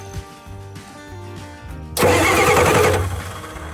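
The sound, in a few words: Ford F350 truck engine cranking with starter jumped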